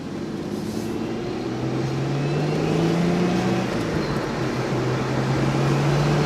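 An Audi B5 S4 with a manual transmission drives steadily with a continuous engine drone, its pitch slowly rising as it pulls along, loud and close throughout.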